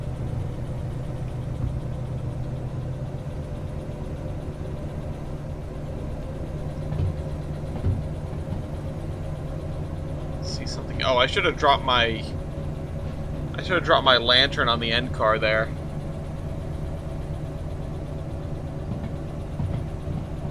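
A train locomotive engine in the Derail Valley video game runs steadily with a low, continuous drone throughout, and someone speaks briefly over it partway through.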